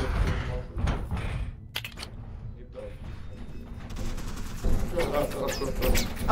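Gunfire bursts and impacts in a multiplayer monster video game, dense and rapid over a noisy, busy mix with intermittent clatter, steady throughout the short stretch while voices talk and react in the background.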